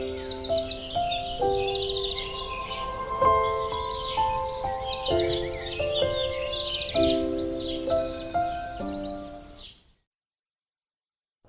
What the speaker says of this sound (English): Just imagine the sound of a chirping bird in the early morning time.